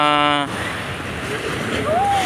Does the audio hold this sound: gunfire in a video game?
no